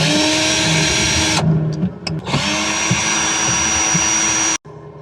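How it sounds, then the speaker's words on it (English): A vacuum cleaner drones loudly and steadily from the floor overhead, its motor dipping in pitch and briefly cutting out midway before resuming and stopping near the end. "That vacuum is right over my head."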